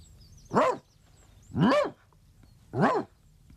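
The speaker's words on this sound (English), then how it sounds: "Rufus ran to the edge of the shaft and began barking." A dog barks three times at the edge of a shaft, close and loud, with evenly spaced pauses between each bark.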